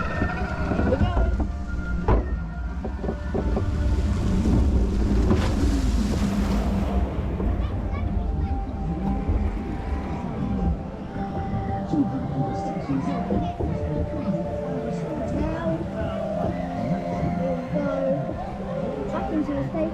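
A log-flume boat on a family water ride plunges down a double drop and splashes, with a loud rushing surge of water and wind early on that settles into steady churning and lapping.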